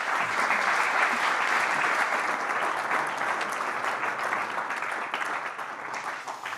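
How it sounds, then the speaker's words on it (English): Large audience applause welcoming a speaker at a Siemens robotics gathering, steady and sustained from many hands, holding even throughout before easing slightly toward the end. "Please join me in welcoming with a big round of applause"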